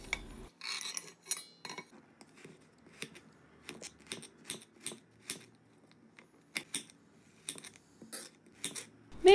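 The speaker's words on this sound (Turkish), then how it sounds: "küçük küçük çilekleri doğruyorum" Sharp, irregular knife taps chopping frozen strawberries into small pieces on a board, bursts of quick clicks separated by brief quiet gaps, close and crisp with no talk.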